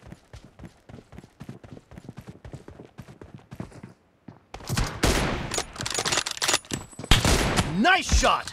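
Gunfire in PUBG Mobile: after a stretch of quiet rapid clicking taps, dense bursts of automatic shots erupt and keep going, loud and close, with sharp rattling volleys to the end.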